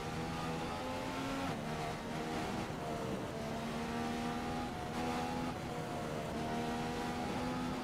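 McLaren Honda Formula 1 car in the F1 2015 racing game, its high-pitched engine whine climbing and dropping through repeated gear shifts, loud and continuous with no talking.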